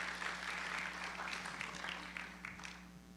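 Church congregation applauding during a service, a steady wash of clapping from many hands, moderately distant and fairly quiet, over a low hum, tapering slightly toward the end.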